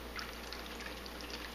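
Liquid is poured into a funnel made from a plastic bottle top lined with a coffee filter, giving a brief, faint, steady trickle close by.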